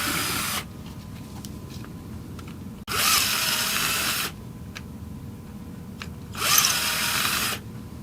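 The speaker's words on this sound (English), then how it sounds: "We'll start by drilling this out larger." A power drill whirs in three separate bursts, enlarging a hole for a threaded insert, each a loud, high-pitched grind lasting about a second, with quieter pauses between them.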